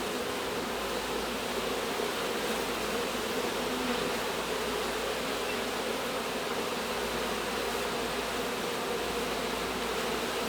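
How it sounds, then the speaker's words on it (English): Honeybees being scooped out of a wall cavity during a colony removal and rescue give off a dense, steady buzzing that stays loud and close throughout, with no talking. "So what I'm going to do is just slowly take a scoop of bees."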